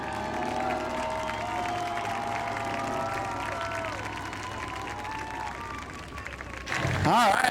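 Race spectators at a family fun night applaud and cheer the winner of the evening's spectator race, a sustained wash of crowd clapping and noise under an announcer's amplified voice, swelling louder at the end.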